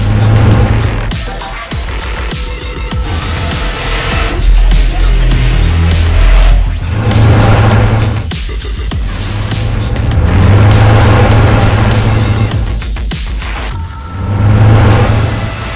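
An animated car glides along on a ride, its engine hum rising and falling in smooth loud swells, with no talking over it.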